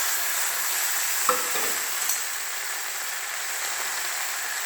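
Ground tomato paste sizzles steadily in hot oil in a pan for a vegetable curry, with brief spoon knocks and stirring scrapes and no one speaking.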